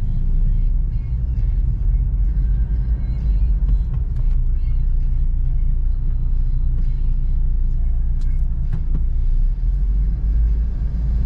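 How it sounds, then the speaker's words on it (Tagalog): Rush-hour street traffic rumbles through Angeles on a walking tour past Metrogate, a loud, continuous low drone of cars and other vehicles with occasional faint clicks and passing sounds. "Traffic na guys, pag ganitong oras, uwian na ng mga tao."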